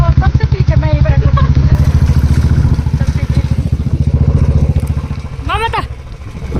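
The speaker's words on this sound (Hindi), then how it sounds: "एक बाइक में 4 लोग बैठ रखे हैं और सबसे पीछे मैं ही बैठू" A motorcycle carrying four riders putters along at a steady low engine rhythm, close and loud, while people talk over it throughout.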